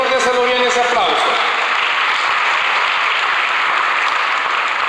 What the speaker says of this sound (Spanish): Si se lo va a dar al Señor, déselo bien ese aplauso.